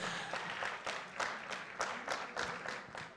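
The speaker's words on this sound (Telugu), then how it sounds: "అస్సలు కొడుతున్నారు క్లాప్స్, మామూలు క్లాప్స్." Audience applause at a film success meet, a dense steady clapping from a large crowd with repeated surges, sustained and fairly distant throughout.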